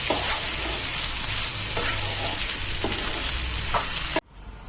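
Crushed lilva beans stirred into ginger-chili paste fry in a pan with a loud, continuous sizzle and soft rhythmic scraping, cutting off suddenly at the end.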